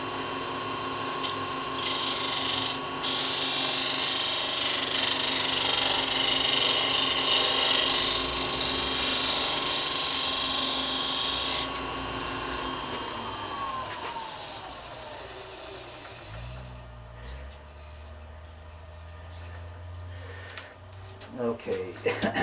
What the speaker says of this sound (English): I'm going to try this scoochy gouge and see if I can't really tear it up.